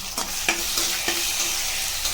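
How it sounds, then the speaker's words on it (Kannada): Onion and tomato masala frying in a pan for a North Karnataka tiffin dish, a steady close sizzle broken by a few sharp scrapes of a spatula stirring against the pan. "ಚೆನ್ನಾಗಿ ಫ್ರೈ ಮಾಡ್ಕೊಳ್ಳೋಣ"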